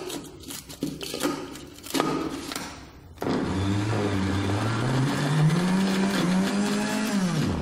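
A kitchen grinding machine blending almond paste with argan oil for Moroccan amlou: some clatter first, then the motor starts and keeps a loud, steady whirring drone whose pitch slowly rises.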